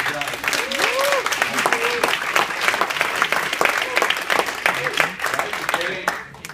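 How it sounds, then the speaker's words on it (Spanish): Loud applause from wedding guests greeting the couple, steady dense clapping with a few voices and whoops mixed in. "Un fuerte aplauso para ellos"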